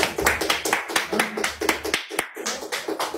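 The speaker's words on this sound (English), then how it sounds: "Let's give it a round of applause." Quick clapping from a few people in a casual gathering, a run of sharp, fairly close claps for about three seconds with speech faintly mixed in.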